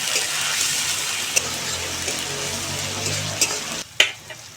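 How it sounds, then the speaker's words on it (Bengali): Onion, tomato and chilli powder frying in a pan, a steady sizzle with scraping stir strokes and a few sharp clinks of the spoon near the end, close and without talk. "পেঁয়াজের সঙ্গে টমেটোটা একটু ভালো করে নেড়ে চেড়ে ভেজে নেব।"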